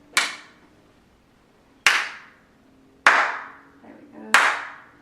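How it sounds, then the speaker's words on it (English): Four sharp single hand claps spaced about a second apart, each crisp and loud with a ringing echo decaying off the walls of a quiet room, and a faint voice murmuring briefly between the third and fourth. "Even the little claps are nice and crisp and echoing around the walls."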